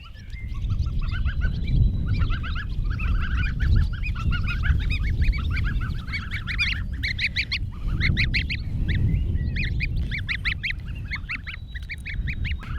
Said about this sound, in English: Yeah, I got 5 geese now.